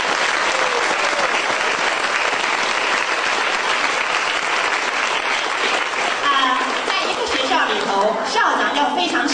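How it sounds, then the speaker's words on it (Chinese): Children at a primary school music recital applaud their principal with steady, dense clapping that fills the hall, while an adult voice speaks over it toward the end. "所以我们现在请小朋友给校长掌声"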